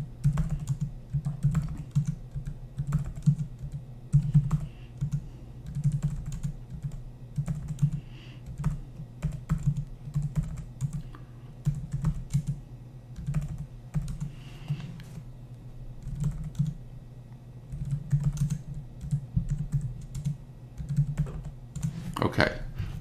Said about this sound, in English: So I'll just type in some numbers.